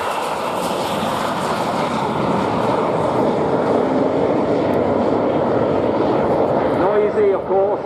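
An early twin-boom jet aircraft with drop tanks and tricycle undercarriage flies at the Dunsfold Wings and Wheels 2016 air show, its engine roar loud and steady throughout with a faint rise and fall near the end.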